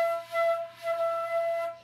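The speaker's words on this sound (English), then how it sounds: "That is the sound of not quite enough air making it into the flute" Flute holding a single steady middle-register note, played with the jaw pushed forward and too little air, so the tone is thin and airy and wavers slightly in strength. It is close and alone, with no talking.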